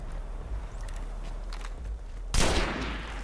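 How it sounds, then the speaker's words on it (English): A semi-automatic gun fires in the video game Destiny. Faint, sparse clicks and footsteps are followed by one louder, sharp shot burst near the end. "Oh, it's like a semi-auto gun."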